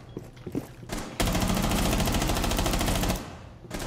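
Rapid automatic gunfire in Rainbow Six Siege, a few scattered shots leading into a long, loud, continuous burst of close rattling fire that cuts off abruptly.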